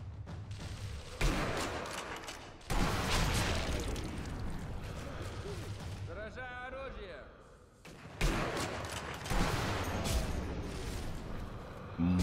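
Gunfire in the war video game Sniper Elite 2, with loud bursts of rifle and automatic shots and blasts in long dense stretches, broken by short lulls.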